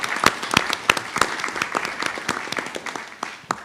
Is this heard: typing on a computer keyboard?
no